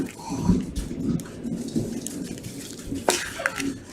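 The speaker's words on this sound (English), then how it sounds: "Uh-oh, some thunder." Thunder rumbles outside with steady rain falling, a low rolling boom midway and a sharper crack near the end, moderately loud over the constant wash of rain; a faint voice occasionally underneath.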